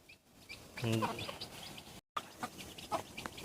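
Peruvidai breed chickens cluck in short bursts, one louder call near the start followed by softer scattered clucks, with no talking.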